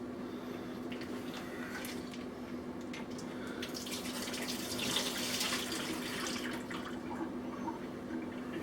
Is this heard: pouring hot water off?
yes